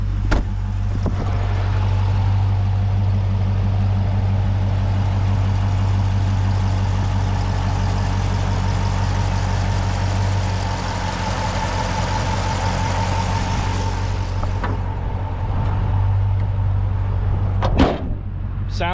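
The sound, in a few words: 2009 Dodge Challenger R/T engine idling, stock exhaust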